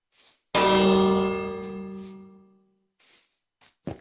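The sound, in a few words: bell ringing in a video game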